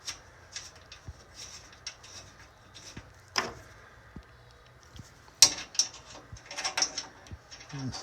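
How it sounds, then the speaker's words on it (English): Small ratchet tool driving little screws while assembling a Zinus smart box spring, giving a series of light mechanical clicks and ratcheting bursts, close and fairly quiet, with sparse sharp ticks scattered across the clip. "This little ratchet tool comes into play."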